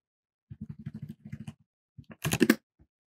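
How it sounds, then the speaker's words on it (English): Close, crisp keystrokes on a computer keyboard typing a command into a Linux-style terminal, a quick even run of taps, a pause, then a denser flurry of clicks. "So we could type Cryptonite, and since it's on a server, it should behave like a Linux terminal."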